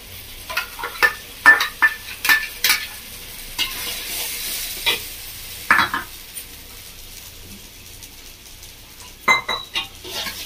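Coconut, melon seed and cashew paste being stirred into prawns frying in a pan, with a low sizzle under irregular scraping and clinking of a spoon against the pot, close by and without talk.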